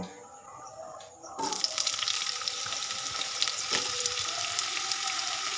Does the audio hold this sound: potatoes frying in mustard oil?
yes